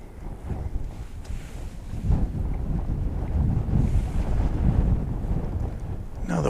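Outdoor wind gusting across a microphone during a nighttime lunar eclipse watch in the Dallas–Fort Worth area, a steady low rumbling buffet that swells and eases without a break.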